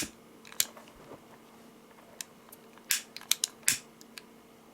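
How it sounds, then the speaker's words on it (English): Scissors snipping nylon cord while making a wooden bead bracelet: a few crisp, close cuts stand out over faint rustling and handling noise, with quiet clicks between them. "now I will take the scissors, cut the nylon cord"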